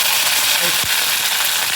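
Curry leaves crackling and sizzling in hot oil in a home kitchen pan, a brief steady hiss with light pops, loud and close.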